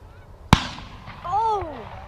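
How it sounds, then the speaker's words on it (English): A single sharp shotgun blast cracks out during an early-season goose hunt in Wisconsin, followed a moment later by a goose honking nearby. "Shoot that cripple, Brady!"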